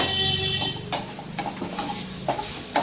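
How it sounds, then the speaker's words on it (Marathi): Asafoetida sizzles as it is sautéed in a pan with turmeric, a steady close-up fry broken by a few sharp spatula clicks against the pan. "आणि हिंग टाकायचा, चांगलं परतून घ्यायचं।"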